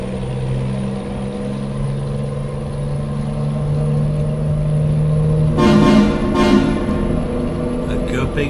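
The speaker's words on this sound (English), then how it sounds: "Got lots of traffic here." Road traffic heard from inside a vehicle, steady engine drone and road hum with a louder burst of passing vehicle noise and a short horn-like toot midway.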